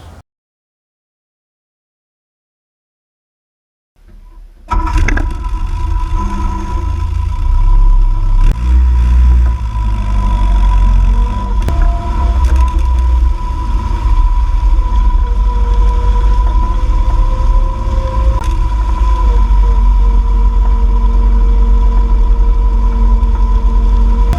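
A 1967 MG Midget starts up after a leaf spring replacement and drives off, its engine droning loud and steady from near the car after a few seconds of silence, with no talk.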